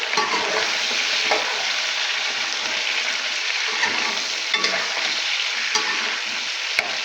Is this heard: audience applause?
no